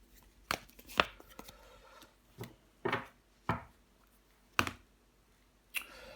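Tarot cards handled and laid out on a table during a reading, giving a series of sharp, separate slaps and flicks spaced irregularly, close and fairly quiet, with no talking.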